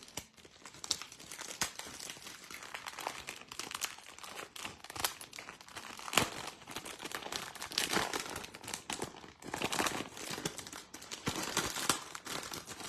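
Packaging on a lot of word items being torn open, with crisp crinkling and ripping of wrapping in irregular bursts, close and fairly loud, no talking.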